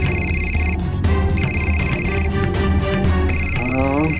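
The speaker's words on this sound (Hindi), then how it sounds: "दुबई से फोन आ रहा है" A telephone ringing in repeated bursts, an electronic ringtone sounding three times over a busy background of music and voices.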